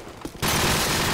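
A brief pause, then sudden rapid automatic gunfire bursts in loud and sustained, a dense burst of weapon fire in Call of Duty 4: Modern Warfare.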